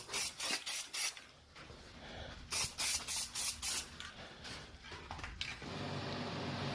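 Aerosol tack coat sprayed onto a Fox-body Mustang engine part in a garage, first in six short rhythmic bursts, then another run of quick bursts, ending in one long steady hiss, close and clear with no talking.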